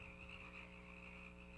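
Faint, steady frog croaking with a continuous droning, pulsing quality over a low hum, heard alone without any talk.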